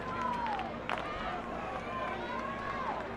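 Steady roar of student fans cheering from the stands at a college football FCS playoff game, a broad continuous crowd noise with a commentator talking over it.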